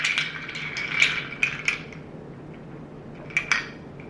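A spoon stirs a cup of Nespresso Papua New Guinea coffee made in a Vertuo machine, clinking against the cup in a few light bursts with a quiet pause between them.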